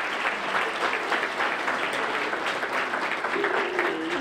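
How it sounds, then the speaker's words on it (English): Sustained applause from an audience at a chamber of commerce small business awards event, honoring lenders; steady dense clapping fills the room throughout, with a brief voice murmuring near the end. "So if everyone could join me in applauding all the lenders who are here."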